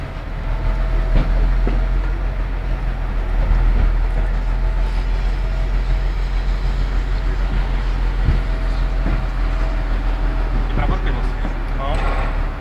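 A car drives onto a car-carrying train, its low engine hum and a deep steady rumble filling the scene, with occasional knocks and clatters and people talking nearby.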